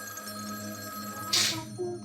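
A telephone rings with a steady electronic tone, ending in a sharp bright burst near the end, loud and close with no talk.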